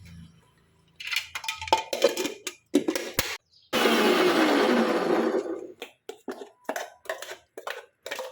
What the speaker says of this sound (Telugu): రాత్రంతా నానబెట్టుకున్న అలసందల్ని మిక్సీ వేసుకొని మెత్తగా గ్రైండ్ చేసుకోవాలి